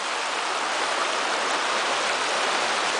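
Water in a brook trout stream rushes steadily through a restored channel, a continuous close hiss of flowing current with no other sounds.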